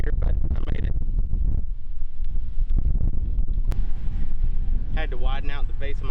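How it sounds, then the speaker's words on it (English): Steady wind buffets the microphone on an open golf course, a constant low roar lasting throughout. Someone talks over the rumble toward the end. "a little windy out here"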